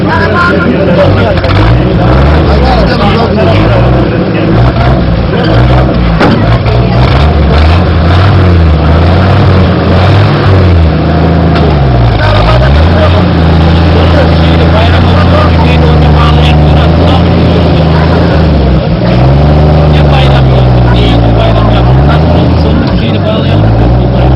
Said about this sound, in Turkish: Arabanın sesini aldık.